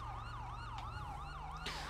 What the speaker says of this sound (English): Alright, we got an ambulance coming here.